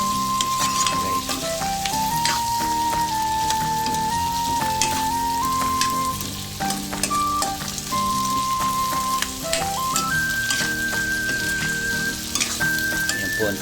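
Butter garlic shrimp fry loudly in a pan, a constant close crackling sizzle with scattered sharper pops and occasional stirring, running unbroken and without any talking.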